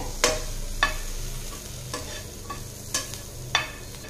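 A spoon stirs vegetable stuffing with coriander leaves in a pan, a soft sizzle underneath and about six sharp scraping clinks at uneven intervals, close and clear with no talk.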